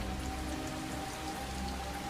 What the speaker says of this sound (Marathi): पावसाचे पडणारे संथ पाणी